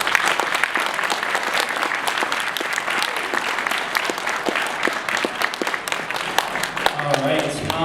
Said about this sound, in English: a big round of applause for all the volunteers and staff members